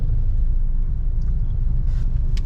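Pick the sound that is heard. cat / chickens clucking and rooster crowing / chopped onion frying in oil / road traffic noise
road traffic noise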